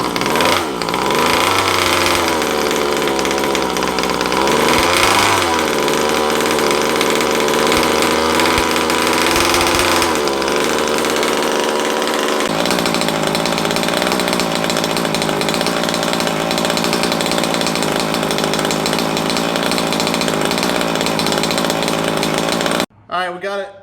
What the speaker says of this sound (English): We're gonna fire her up and see if she'll pop for me.